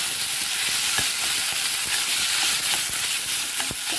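Masala with a paneer and bottle gourd mixture sautéing in a pan, a constant loud sizzle and hiss with regular light clicks from stirring, no talking.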